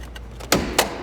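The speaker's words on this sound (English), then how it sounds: "I guess I should open the door first before I screw around with that." Door of a black 2000 Chevrolet Corvette swinging open up close, marked by two short, solid clunks about a quarter second apart over a quiet background.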